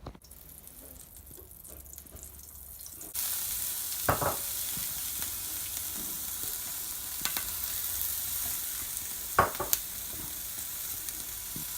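Capsicums sizzle and fry in a hot pan, a steady broadband hiss that jumps louder partway through as they are added, with occasional brief clicks of a utensil against the pan; no one speaks.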